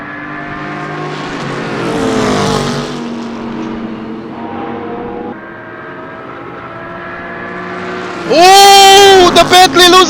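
GT race cars including a Mercedes and a Bentley at the Nürburgring GP circuit in a 2022 CGT34 race, engines droning steadily under commentary before a loud, sharp rise in engine revs near the end.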